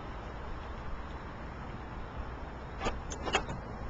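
A quiet motorized whir and a few soft mechanical clunks near the end as a car's rear hatch powers open, with steady low background hum.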